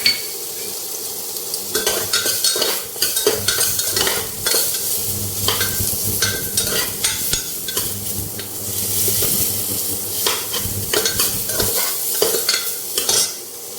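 Chopped tomatoes go into a pan for protein-rich khichdi and are stirred as they fry, giving a steady sizzle with repeated scraping utensil strokes throughout, close and fairly loud, with no talking.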